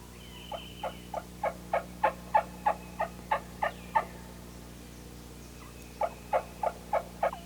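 Wild turkey plain yelps sound in the woods, a rhythmic series of about twelve evenly spaced, clear yelp notes, a short pause, then five more yelps, with no talking.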